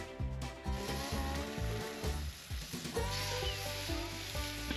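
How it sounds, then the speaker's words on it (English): Thin slices of seasoned meat frying in a pan outdoors, a close crackling sizzle heard over a steady, droning background hum, with no voices. "So you only cook this apparently for 30 seconds each side."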